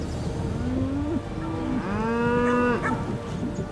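Breeding cows and calves on a pasture give one long, loud moo and a shorter one before it, close by, over faint outdoor background noise.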